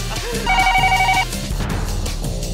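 A telephone bell rings in a short trilling burst, lasting under a second, over background music and murmuring sounds.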